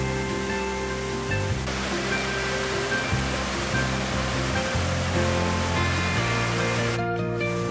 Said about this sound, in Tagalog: Mga tunog ng galaslas ng tubig